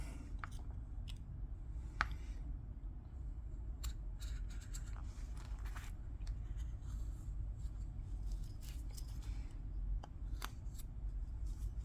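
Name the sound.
knife cutting wood while carving an open book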